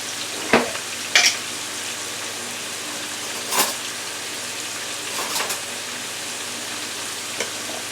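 Garlic paste hits a hot frying pan during a honey jerk chicken and potato stir fry, giving a steady sizzle with a few sharp crackling bursts and clatters, close and alone with no talking.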